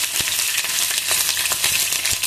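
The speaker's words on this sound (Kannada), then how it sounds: "ಒಂದು ಕಡೆ ಒಗ್ಗರಣೆ ಹಾಕ್ಕೊಂಡು ಅಷ್ಟು ಹೋಗ್ತಿದ್ದೀನಿ" Green chilli, pepper and other spices splutter in hot oil as tempering for kara pongal, a loud close crackle with sharp pops scattered throughout.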